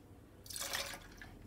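Spiced apple cider poured quickly into a jigger, a short bright splashing trickle of about half a second against quiet room tone.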